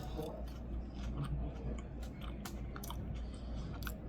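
Someone crunches on crispy golden fries from Shake Shack, with close, repeated soft bites and chewing at a low level.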